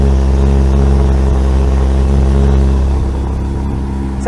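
Porsche 991.2 GT3RS with Valvetronic exhaust and its valves closed, a loud, steady engine drone that holds a constant pitch before easing slightly near the end, with no voices.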